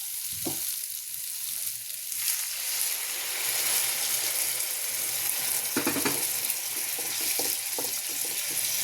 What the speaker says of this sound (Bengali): মশলাটা কষানো হয়ে গেছে, এবার আমি জল দিয়ে দেবো।